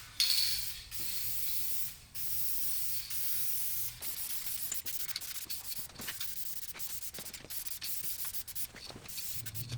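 Adhesion promoter sprays onto bare plastic side skirts of an E30 during auto body work, as a near, continuous hiss broken by short gaps and light clicks.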